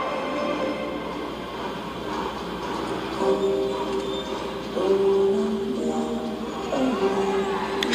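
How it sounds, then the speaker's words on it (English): Loud, rumbling train-like noise from a moving drum corps prop, with a rhythmic chugging and occasional metallic squeal, continuous throughout with no voices. "Every time they move it, it sounds like I hear like chugga chugga in the background."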